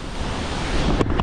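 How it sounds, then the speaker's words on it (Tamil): Water flows and rushes near a village path, a loud, continuous broadband wash that swells slightly toward the end, with no talking. "இந்த சைடில் எல்லாம் பார்த்தீங்கன்னா தண்ணி வந்துட்டு இருக்கு பாருங்க"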